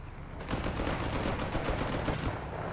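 Rapid MP40 submachine gun fire in the real-time strategy game Company of Heroes 3, with a dense, continuous rattle of overlapping shots that stays loud from start to end.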